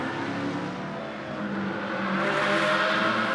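The number 1 WRT Audi GT race car runs on track during free practice at Moscow, its engine droning steadily and swelling louder toward the end as it draws nearer, alone without voices.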